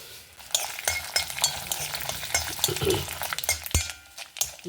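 Mustard seeds and urad dal crackle and sizzle in hot oil in a pan on the stove for a poha upkari tempering, with scattered pops and a few metallic stirring clinks close by.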